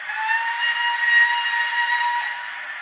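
A model steam locomotive gives one steady, shrill whistle lasting nearly three seconds, with a hissy edge, fairly loud and alone without any talk.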